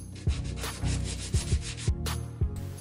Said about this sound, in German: Um Shelly Look zu bekommen, schleife ich das Schildchen an.